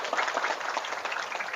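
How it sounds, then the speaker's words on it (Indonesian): Dense, steady applause from an audience fills the whole stretch, loud and close with no pause, many hands clapping at once. "Tepuk tangan dulu lah."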